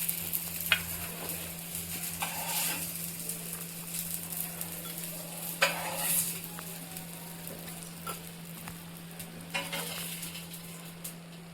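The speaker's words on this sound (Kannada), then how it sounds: "ಇವಾಗ ಫಿಶ್ ಫ್ರೈ ಆಲ್ಮೋಸ್ಟ್ ರೆಡಿ ಆಗಿದೆ" Rava-coated fish fries on a tawa with a soft, continuous sizzle. Occasional sharp clicks of a utensil against the pan cut through, fairly quiet and close, with no voices.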